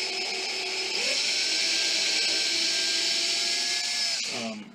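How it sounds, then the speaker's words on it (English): A small 1/16 inch bit drills a pilot hole for screws in a canjo build, a steady high-pitched power-drill whine running continuously for several seconds before spinning down at the end, close and alone with no talking. "you have to drill pilot holes for these screws, otherwise they're gonna break"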